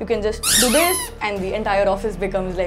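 A loud, high rubber duck toy squeal bursts out over a man's speech, followed by more talking with lower squeaks.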